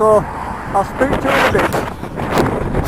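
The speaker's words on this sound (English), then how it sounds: "It's a bit windy here" Strong wind buffets the microphone on open moorland, a rough rumbling gusting noise that swells and eases throughout while someone speaks over it.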